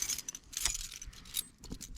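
A bunch of garage keys jangles in a workshop, with bright metallic clinks coming in a few quick bursts close to the microphone. Brief quiet gaps fall between the rattles.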